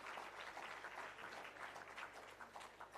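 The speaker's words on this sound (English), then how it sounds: "let's give another rousing round of applause to Kemoy Gordon" Steady applause from a conference audience at a regional public sector leadership development opening ceremony, dense clapping sustained throughout at moderate distance with no talk over it.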